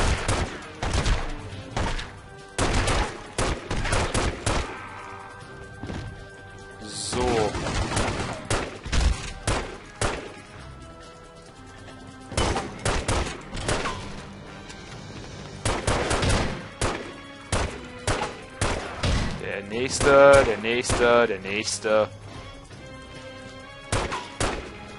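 Video game gunfire in The Godfather (Der Pate): repeated sharp bursts of shots, some in rapid strings and some single, spread across the stretch with quieter gaps between, and a voice speaking briefly.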